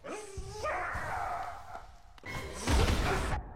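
Video game explosions burst out as rumbling, crackling blasts. A rough roar fades in the first half, and a louder, heavier explosion swells near the end before cutting off.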